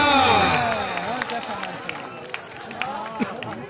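A crowd at a Mehta Tiwana match between Zubair Khan and Waseem Sheikh, on 1-3-2020, cheers and claps loudly, then settles into a steady wash of noise with scattered shouts. Voices call out over it throughout.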